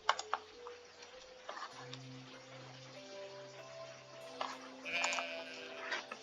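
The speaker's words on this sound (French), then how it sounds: "on va acheter un mouton." Sheep bleat in the Stardew Valley video game, with a couple of short bleats set against soft, tinkling game music and small interface clicks, moderately loud and with no talking.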